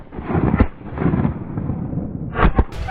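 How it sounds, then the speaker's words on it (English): Gunshot fired at a wild boar in snowy woods: two sharp, booming reports, one early and one near the end, over a heavy, rumbling background noise. "After the crisp gunshot, the wild boar had completely collapsed in the snow."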